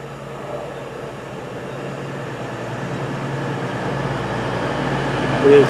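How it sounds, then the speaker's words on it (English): CrossCountry train pulling into Bristol Parkway, a low steady rumble and hum that builds gradually, with a brief tonal squeal near the end as it arrives. "Here comes our next train"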